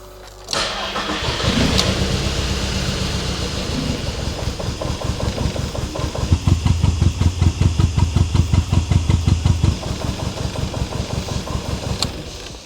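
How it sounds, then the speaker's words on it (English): A car engine that has sat unused for over four years cranks and fires after a fuel pump fuse is replaced, then runs close and loud with a rough, pulsing beat suggesting a misfire. "we'll go ahead, throw the fuse back in and start this thing up"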